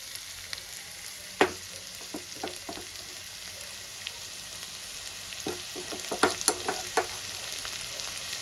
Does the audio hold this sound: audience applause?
no